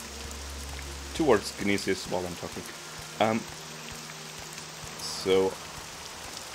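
Steady rain hisses in the video game Morrowind, falling evenly throughout while a person talks over it in short phrases.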